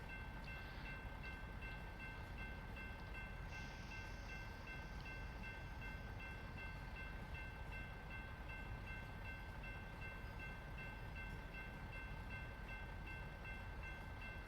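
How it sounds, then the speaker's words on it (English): A train rolls past a road crossing in the American Truck Simulator game, a steady, even rumble of rail cars that holds for the whole stretch with faint tonal ringing above it, close by and with no talk. "But we will wait for this train to pass and our green light to come up."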